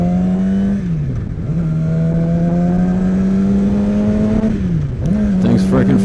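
A new Yamaha R6 motorcycle engine drones loudly and close as it accelerates, its pitch holding high before dropping sharply at two gear changes and climbing again, with wind rush underneath.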